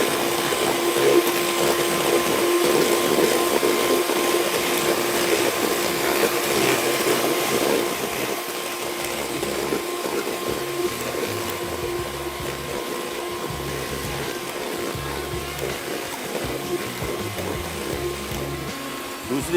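Electric mixer beating chocolate cake batter in a kitchen, a loud, steady motor whir with a sustained hum that runs unbroken for about twenty seconds, easing slightly in level partway through.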